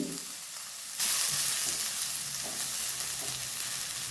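Finely chopped carrots stirred into a hot pot for a healthy kodo millet soup, a quiet start that jumps into a loud, steady sizzle with light stirring scrapes.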